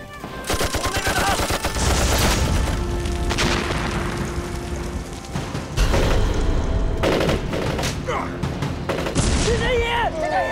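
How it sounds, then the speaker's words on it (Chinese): Loud battle gunfire from a Chinese war film about the Eighth Route Army fighting bandits, with dense bursts, booming shots and rapid fusillades sounding nearly nonstop, plus short shouted voices breaking through near the end. "武艺掩护我，往那边打"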